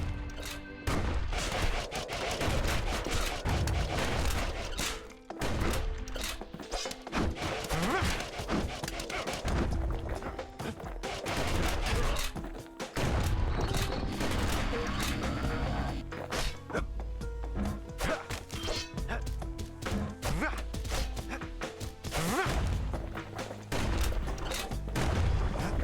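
In the video game Bastion, big guns fire as rapid bursts of gunfire and booming impacts, dense and loud throughout with overlapping blasts and game music beneath.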